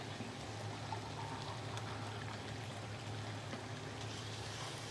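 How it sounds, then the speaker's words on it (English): Water pours steadily into a pot of chicken karahi curry seasoned with salt and ground cumin, a continuous close trickling wash with a low hum underneath and no talking. "Add some water."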